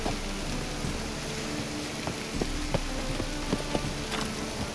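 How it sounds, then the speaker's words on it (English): Steady rain in the video game The Witcher 3: Wild Hunt patters on a surface, a dense hiss with occasional louder drops, with no talking. "It does look like rain."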